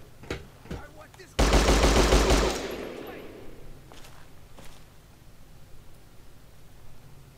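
A loud burst of heavy gunfire from a Desert Eagle-like pistol in Fallout 3, a dense roar lasting about a second before fading into a ringing tail, with scattered softer impacts before and after.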